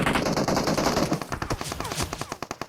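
Gunfire in PUBG Mobile: rapid automatic bursts that merge into a dense roar, then break into sharp, separate shots toward the end, loud and close.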